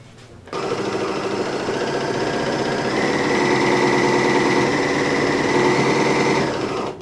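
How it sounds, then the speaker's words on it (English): Sewing machine running steadily for about six seconds as it stitches a straight seam on a drawstring bag, a close, fast, even whirring hum that starts abruptly and eases off at the end. "So I'm going to put this on my machine and sew straight down."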